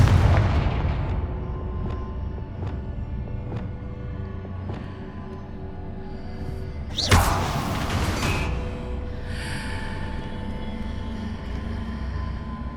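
Confringo explosion spell in Hogwarts Legacy, a booming burst with a whooshing blast at mid-clip after a series of faint rhythmic thuds, fading into a lingering tail.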